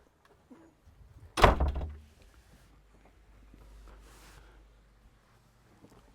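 Indoor door pushed shut in a house, one sharp thunk with a brief rattling tail, followed by quiet room tone and a soft whoosh of air.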